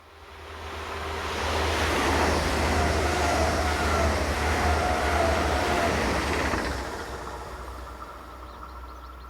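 A Class 411 electric multiple unit, number 078, passes close by near Fürth, its rumble and rushing wind swelling over a couple of seconds, holding steady, then fading as it draws away; no voices.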